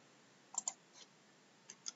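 A few sharp computer mouse clicks, close and quiet, come in two pairs spaced apart over a low, steady background hiss with no voices.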